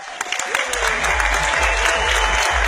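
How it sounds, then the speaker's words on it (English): An audience at a company event breaks into applause that swells and holds, with dense clapping over a low rumble and some voices mixed in. "please give them a round of applause"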